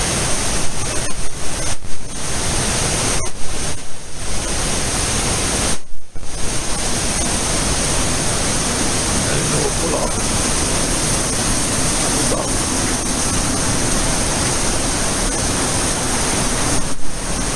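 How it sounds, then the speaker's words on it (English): A waterfall thunders somewhere below a tunnel, its loud, steady rushing roar filling the space without a break apart from a few short dips. "waterfalls coming down. Obviously you can hear it."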